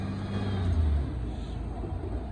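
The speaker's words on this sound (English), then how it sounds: "there goes 1988 traveling on the Union Pacific Gravel Hopper car train" A northbound Union Pacific gravel and hopper car freight train, led by locomotive 1988, passes at Stassney Lane as a loud, steady low rumble close by, swelling slightly early on.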